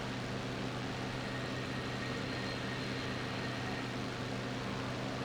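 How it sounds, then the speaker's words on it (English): A damaged aircraft engine in IL-2 Sturmovik: Battle of Stalingrad drones steadily and evenly, a constant rough hum with no breaks and no talk. "This one's got some weird noises coming from his engine, it sounds like, so maybe he's done for"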